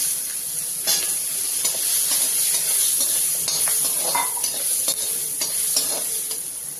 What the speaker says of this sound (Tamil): முதல்ல இந்த வெங்காயத்தை நம்ம வதக்கி வச்சுக்கணும்